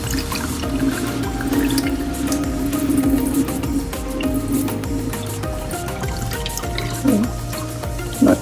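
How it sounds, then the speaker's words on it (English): Water running into a container while making aloe vera water, a close steady splashing pour with bubbling and dripping over the whole stretch, and some voice faintly under it. "I'm gonna throw this off and put some more water in there"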